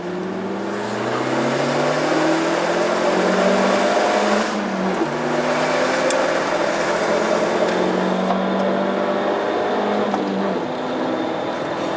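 An Alfa Romeo Mito QV on Bilstein B14 suspension laps the Nürburgring, its engine droning loud and close from inside the car, pitch climbing repeatedly through the gears with brief dips at each shift.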